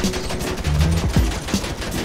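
Rapid bursts of gunfire aimed at a jeep in the Free Fire video game, a dense close volley of shots with no speech.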